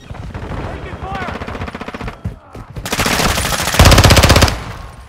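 Machine gun fire in Call of Duty: Modern Warfare II, close and loud bursts of rapid automatic shots, the heaviest near the end, with game voices and radio chatter mixed in between the volleys.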